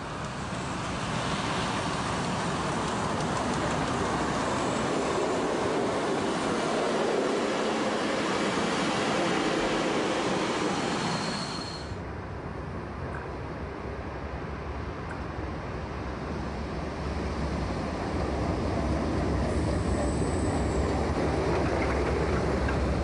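A blue-liveried DB V60 diesel locomotive runs on the Wieslaufbahn branch line, giving a loud, steady engine and rail rumble for over twenty seconds. The tone shifts partway through as it passes, and no one speaks.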